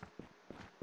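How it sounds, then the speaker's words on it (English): Footsteps in the fantasy role-playing game Aidyn Chronicles: The First Mage, heard as a few soft, evenly spaced thuds, moderately close, with no talk over them. "I hear footsteps."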